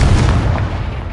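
Spell explosions from Bombarda and Confringo in Hogwarts Legacy, a loud, dense booming blast with a rumbling low end that fills the whole moment and gradually tapers.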